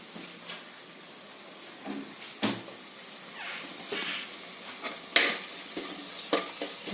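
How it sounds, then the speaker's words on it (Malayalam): Ginger and garlic frying in a pan for Kottayam-style fish curry, soft sizzle broken by sharp stirring scrapes and clinks, fairly quiet and close, with a faint cat meow in the background. "ഇഞ്ചിയും വെളുത്തുള്ളിയൊക്കെ നല്ലതായിട്ടൊന്ന് മൂത്ത് കഴിയുമ്പോൾ നമുക്കതിലേക്ക് ആവശ്യത്തിനുള്ള മുളക് പൊടി ചേർക്കാം."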